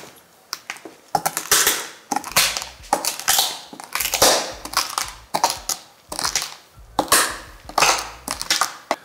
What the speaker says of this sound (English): Just gonna crush them with the knife.